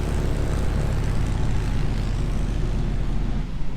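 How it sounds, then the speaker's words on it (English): A light plane flies low over the trees on Fraser Island, coming in to land. Its engine and propeller make a loud, steady drone that stays constant and eases slightly at the end. "Bloody plane coming in to do some skids."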